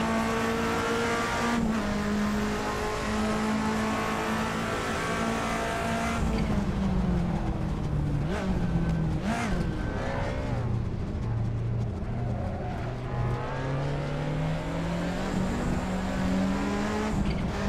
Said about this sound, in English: Normally aspirated BMW, giving it the riz.